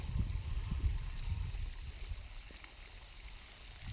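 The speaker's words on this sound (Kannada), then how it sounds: "ಈ ಥರ ಡ್ರಿಪ್ಪಲ್ಲಿ ಇವರು ನೀರು ಹಾಯಿಸ್ತಿದ್ದಾರೆ" Water runs through drip irrigation lines on farmland, making a soft, continuous trickle and gurgle that stays faint and close, with a few slightly louder moments early on.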